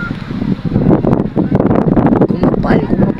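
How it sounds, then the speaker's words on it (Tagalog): Strong seaside wind buffets the microphone outdoors in Quezon, with loud rushing gusts that rise and fall unevenly and a voice speaking briefly over the roar. "Lakas ng hangin."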